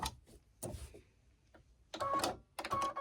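Sewing machine stitching down fabric for a gnome's beard, in two short bursts of fast mechanical whirring, each lasting about half a second, separated by quieter handling noises and pauses.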